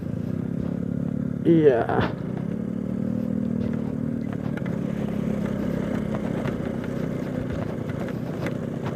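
A motorcycle rides a forest route from Dieng via Pacet Reban in Indonesia, its engine droning steadily and fairly close. A brief clattering scrape comes early on, and a voice speaks briefly.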